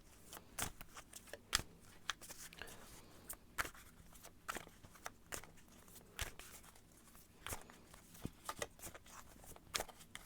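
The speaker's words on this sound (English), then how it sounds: "I'm going to shuffle a little bit more" Tarot cards are shuffled by hand in repeated quick riffling bursts, crisp papery slaps and rustles spaced irregularly at close range in a quiet room.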